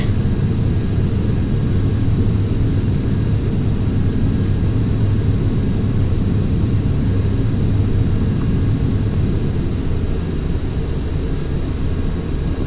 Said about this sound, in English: Right, we are airborne. Gear up, and we are climbing extremely fast.